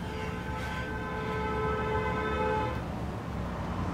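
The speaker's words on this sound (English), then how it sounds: "Who's honking at who?" A car horn held in one steady tone for about two and a half seconds, heard at a distance over faint background noise before it cuts off.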